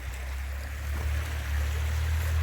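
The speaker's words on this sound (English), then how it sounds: "Here's the stream I made mention of right here" Steady rushing water from a stream, a constant low wash with a faint trickle on top, no voices.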